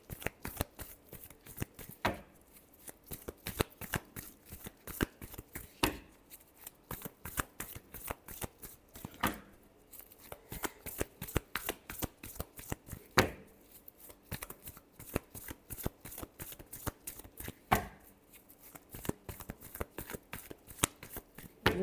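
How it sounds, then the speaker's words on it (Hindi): Tarot cards are shuffled by hand in a fast, rhythmic stream of papery flicks and slaps that goes on throughout, close and clear. "last shuffle"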